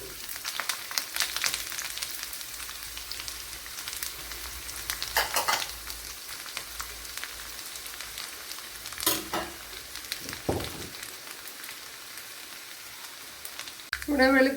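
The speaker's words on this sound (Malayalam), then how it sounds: "ഒരു കണ്ണല വെളുത്തുള്ളി ഇഞ്ചി നല്ലപോലെ മൂത്ത് വന്നിട്ടുണ്ട്" Ginger, garlic and onions frying in coconut oil with mustard seeds for a bitter gourd dish, a continuous crackling sizzle with scattered pops and occasional stirring scrapes, close by, with brief talk over it.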